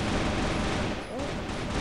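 M16 rifle fire in the video game CrossFire Mobile comes as a dense, loud, continuous burst of rapid shots, with the reports blurring together throughout.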